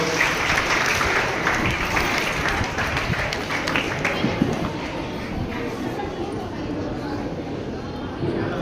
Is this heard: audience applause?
yes